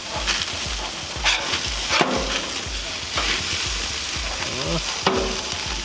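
Frozen beef burger patties sizzle on a hot grill, a steady loud fry with periodic scraping and clatter of a spatula, plus brief sharp knocks throughout.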